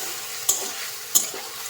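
Macaroni pasta frying in hot mustard oil in a kadai, with a steady faint sizzle and two sharp scrapes of a spoon stirring it, close and without talk.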